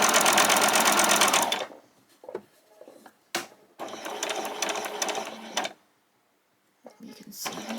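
A sewing machine stitches along the edge of fabric for an apron in rapid mechanical bursts that stop and start, close and loud, with a person talking quietly in the pauses between runs.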